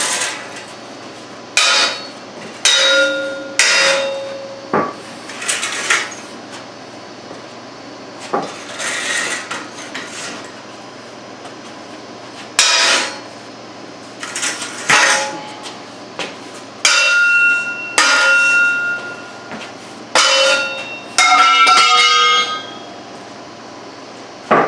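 Repeated sharp hammer blows knock loose the welded tines of a lawn thatcher rigged for a zero-turn mower, coming in irregular bursts of metallic strikes with ringing overtones across a workshop, no talking.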